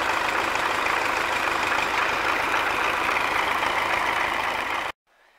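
A diesel MTZ-80 tractor engine runs in winter cold with a steady, loud, even drone that holds throughout, then cuts off abruptly near the end, leaving near silence.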